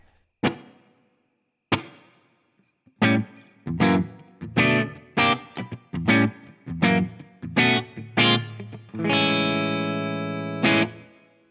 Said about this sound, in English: There's the reverb, and then I've got a little bit of delay coming from it as well